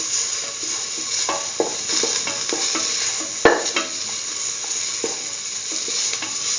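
Chili powder sautéing in a hot pan for a curried lentil and egg stew, a steady sizzle with a utensil scraping and stirring throughout and one sharp clink partway.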